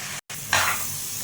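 Coriander and chilli powder spices hit hot oil for a fish curry with a brief, bright sizzle after a short stir, close and steady.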